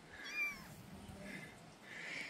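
A kitten in Mexico cries for its mother with several faint, thin meows spaced across the moment, over low background noise.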